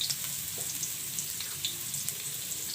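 Chopped onions frying in hot oil while cooking a local duck dish with ground spices, a steady soft sizzle with faint crackles throughout, no voices.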